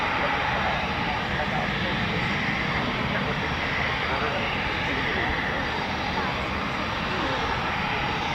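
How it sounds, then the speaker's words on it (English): Two jet fighters take off together at an airshow, their loud continuous engine roar filling the air with broadband rumble that holds steady throughout, with no pause or break. "Twin takeoff."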